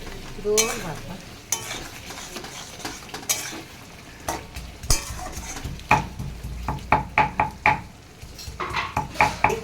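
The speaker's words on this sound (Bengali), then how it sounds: "একটুখানি মিষ্টি দিয়ে ও ভালো করে নাড়াচাড়া করে নিচ্ছে" A spoon scrapes and stirs spiced taro curry in a pan while it fries, a soft sizzle underneath and a run of rhythmic metallic clinks growing quicker and louder toward the end.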